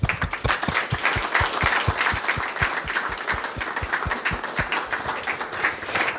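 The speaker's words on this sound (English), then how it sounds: "I think we can give you another round of applause for your work." An audience applauds, with a broad field of clapping plus strong, regular claps close to the microphone that land about twice a second, fairly loud and steady for six seconds with no talk.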